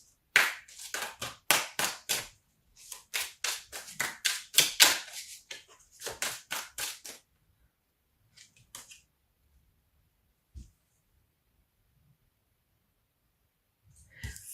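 Tarot cards are shuffled vigorously, giving a quick run of crisp riffling snaps that stops, followed by a few faint taps and shuffles with long quiet gaps.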